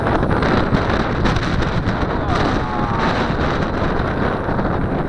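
Strong wind buffets the microphone outdoors while a mini collective-pitch RC helicopter flies, a constant loud roar of gusting noise with no clear engine or rotor tone over it.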